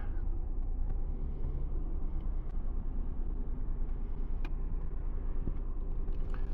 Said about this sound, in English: Look at this, all these cars coming, very busy.